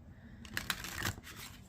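Oracle cards being shuffled during a tarot reading, a short soft riffle of papery flicks and slaps close by.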